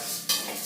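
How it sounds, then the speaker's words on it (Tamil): Urad dal is dry-roasted in a pan, giving a brief, close scrape of stirring over a soft sizzle, with one slightly sharper stroke midway. "இப்போ நல்லா உளுந்து அந்த பச்சை மணம் போக மட்டும் நல்லா வறுக்கணும்"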